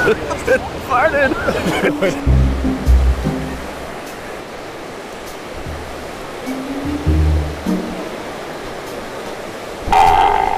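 Ocean waves wash steadily onto a beach as a broad, continuous surf roar, with a few low thumps and a brief louder burst near the end.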